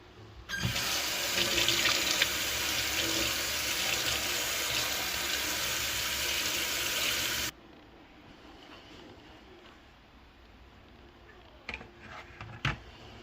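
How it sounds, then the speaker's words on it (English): A kitchen faucet runs hard as a whisk is rinsed under it, a loud, steady rush of water for about seven seconds that cuts off abruptly, leaving quiet room sound with a couple of light clanks. "let me get my whisk out of here and give this a rinse"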